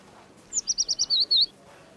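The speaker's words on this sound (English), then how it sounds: "And here's yours, bird whistling Wilbur." A quick run of seven bright, high chirps, evenly spaced and then slightly longer at the end, heard close up against a quiet background.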